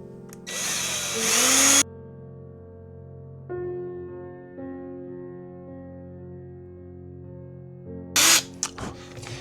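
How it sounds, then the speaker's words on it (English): A power drill bores out the centers of parts for a tentacle animatronic, with loud whirring bursts at the start and end and a lower humming motor tone in between. "Let me first drill out the centers."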